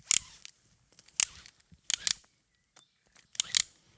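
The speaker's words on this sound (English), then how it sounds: "it makes a ratcheting sound when you try to pull the rope fast" Petzl NEOX belay device ratcheting as climbing rope is pulled through fast, a few sharp clicking bursts in quick clusters separated by short silences, close and fairly quiet.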